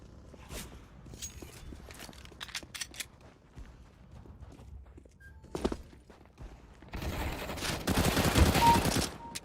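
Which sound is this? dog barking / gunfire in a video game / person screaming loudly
gunfire in a video game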